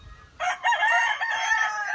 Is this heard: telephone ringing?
no